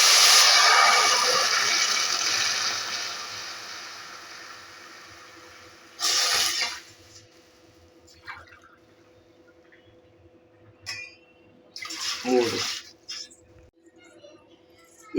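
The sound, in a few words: water poured from a glass into an AMC cookware pot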